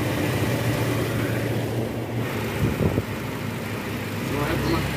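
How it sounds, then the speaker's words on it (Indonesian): Toyota Innova petrol engine idling at a steady low rumble around 800 rpm after an oil-leak repair, continuous and close, with some wind noise and a brief clatter near the middle. "RPM udah normal, udah idling nih."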